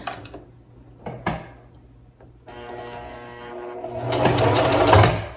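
A sewing machine stitches a puff quilt with the presser foot lifted, starting after a few soft handling knocks as a steady whirring hum that builds louder toward the end.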